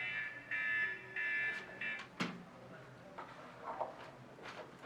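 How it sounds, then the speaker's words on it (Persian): A few repeated electronic phone alarm beeps ring out at the start, followed by a clunk and quiet rustling. "دوباره صدای آلارم گوشیم بلند میشه"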